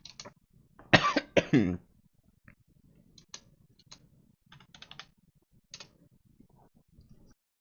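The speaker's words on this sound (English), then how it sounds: "Sorry about the coughing." Several loud, harsh coughs in a quick burst near the start, followed by faint scattered clicks and soft throat noises in a quiet indoor room.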